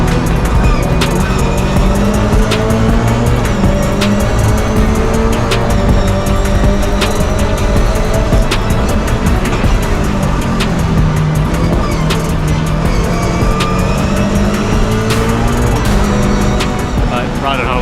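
Toyota race cars howl around a track in a 2023 race, engines rising and falling through gear changes with tire squeal, loud and continuous throughout while a commentator talks over the racing.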